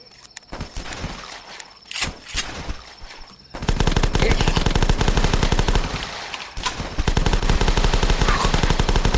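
Video game gunfire from The Last Stand, a zombie survival game: scattered single shots at first, then a loud, continuous rapid-fire machine-gun burst hammering in a fast, even rhythm.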